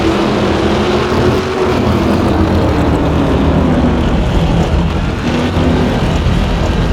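Drag racing car from the NHRA Championship Drag Racing video game doing a burnout, a loud, steady engine roar with dense rumble holding for the full stretch, no voices over it.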